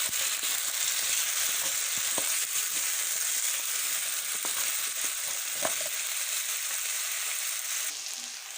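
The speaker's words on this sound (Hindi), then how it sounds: "अब हम इन्हें लाइट सा घी में फ्राई करेंगे।" Cubed potatoes fry lightly in ghee with a steady, close hiss of sizzling oil and a few soft clicks from stirring, with no talking.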